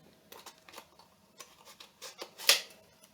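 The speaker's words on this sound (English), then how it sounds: "you're going to take your scissors" Scissors snip down the side of a damp biodegradable egg carton peat pot, giving a series of short, dry cutting clicks and crunches at close range with no talking, ending in one sharper, louder snip.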